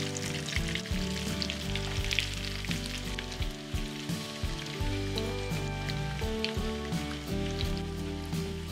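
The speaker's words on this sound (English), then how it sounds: "These potatoes are starting to form a crust." Potatoes fry in a pan of fragrant oil as a crust forms, giving a steady, close sizzle with scattered crackles and pops and no talk.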